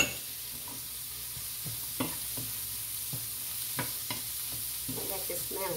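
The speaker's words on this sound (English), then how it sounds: "Then I put the dill in it to mix the dill." Dill being stirred into stir-fried Swiss red chard, a quiet steady sizzle with scattered soft scrapes and taps of a utensil in the pan, no speech.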